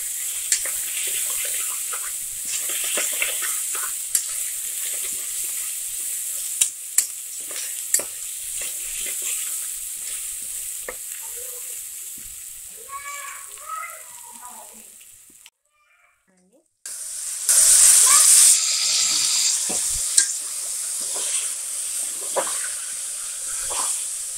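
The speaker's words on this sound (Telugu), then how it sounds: "అల్లం వెల్లుల్లి పేస్ట్ వేస్తున్నాము" Ginger garlic paste frying for mutton curry, a constant close sizzle with stirring scrapes throughout, briefly cutting out and then returning louder.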